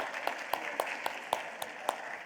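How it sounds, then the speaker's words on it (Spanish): A conference audience greets a speaker at a sports-performance talk with faint, evenly spaced claps, a sparse and distant rhythm rather than full applause. "Un aplauso para la doctora Ana de la Torre, por favor."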